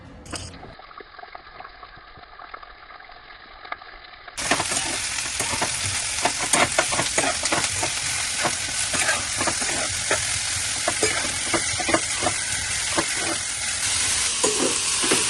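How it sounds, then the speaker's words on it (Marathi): Onion frying in a pan for Maharashtrian gavran chicken masala: quieter at first, then a loud, dense, continuous sizzle with repeated stirring scrapes and clicks close by. "तर बघा हा कांदा आपण आता हा भाजायला घेतलेला आहे"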